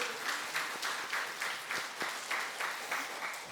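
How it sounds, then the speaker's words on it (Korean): A congregation at an Easter Sunday church service in Yanggu claps steadily in a broad, even roar of many hands with a regular rhythm throughout, filling the room without any voices on top. "박수."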